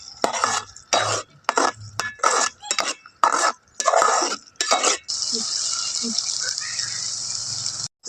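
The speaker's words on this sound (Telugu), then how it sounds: "టమాటా పేస్ట్ వేసుకుందాం. పచ్చివాసన పోయినాక వేపుకుందాం ఫ్రెండ్స్" Tomato paste for a dhaba-style egg curry is stirred in a pan with loud rhythmic metal scraping and clanking strokes, then gives way to a steady hiss of frying with a few soft taps.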